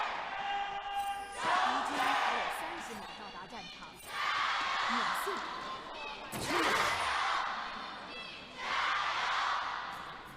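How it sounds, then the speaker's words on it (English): Large arena crowd of esports fans at a 2018 LPL Spring Split match between Edward Gaming and Snake Esports in Chongqing, swelling in repeated waves of cheering and chanting with a sharp bang midway, voices mixed throughout. "All the fans out in full force as we can take a look at the crowd."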